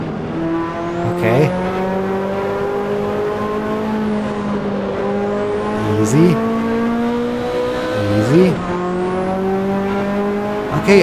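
A Ferrari race car in Assetto Corsa screams around the track at high revs, the engine note rising steadily through each gear and dropping sharply at every shift. Someone talks over the engine throughout.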